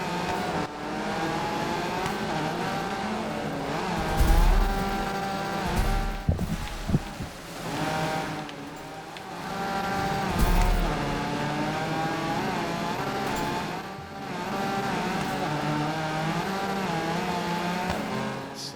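A rally car engine in the Gravel racing video game drones and revs continuously, rising and falling with acceleration, with brief bursts of tire noise and impacts mixed in.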